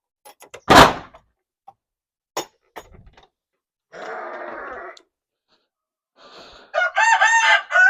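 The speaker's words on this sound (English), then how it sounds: "It houses right now about 10 animals, 9 hens and a rooster." In a chicken coop housing nine hens and a rooster, a door clatters and knocks, then a brief burst of fowl noise follows before the rooster lets out a loud, close crow at the end.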